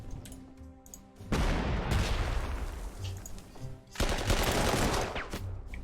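Battle gunfire from an attack in the strategy game Panzer Corps 2: two loud sustained bursts of rattling fire and booms, separated by a brief lull, with no voices.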